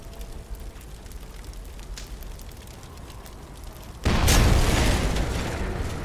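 Sudden loud explosion in the World War II sniper game Sniper Elite 4 bursts in after a stretch of quiet rumbling ambience, then a broad roaring blast that slowly fades, with no talking.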